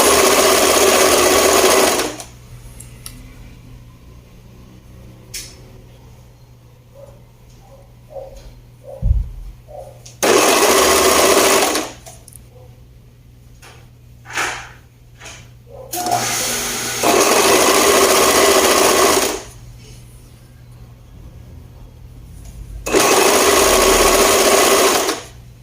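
A sewing machine stitches a blouse seam along the back in loud, steady bursts of whirring, stopping and starting several times, with quieter handling of fabric and small clicks between runs.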